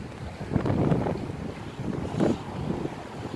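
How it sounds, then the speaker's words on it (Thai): Strong wind gusting over a riverside fishing spot by the Sarasin Bridge, with continuous rough buffeting against the microphone that swells and eases in waves. "น้ำไหลแรงมาก แล้วก็ลมแรงจริงนะคะ"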